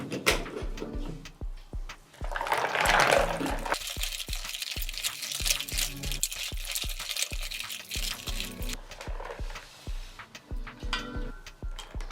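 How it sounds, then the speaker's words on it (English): Cold water poured over lemon peels in a bowl, a continuous splashing pour with liquid trickling, set against a steady ticking rhythm throughout. "add cold water to the lemon peels again"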